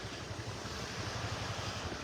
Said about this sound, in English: The tide's coming in here. The water's great.